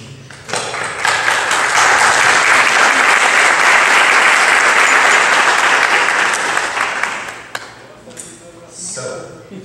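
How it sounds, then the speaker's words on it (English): Audience applause rises quickly into a dense, loud burst of clapping that holds for several seconds, then tapers off into scattered claps and a brief final swell. "I would like to give a round of applause to Maynard and his team"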